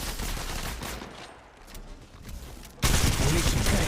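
Gunfire in the video game Fade: sustained rapid bursts of shooting, loud and dense, dipping briefly then surging into a heavier barrage near the end.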